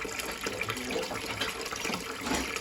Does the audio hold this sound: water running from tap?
yes